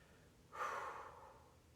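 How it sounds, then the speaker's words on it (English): One slow, calm breath during a bodyweight leg stretch, a soft airy exhale of about a second, close and quiet against near silence. "Nice, easy breathing here"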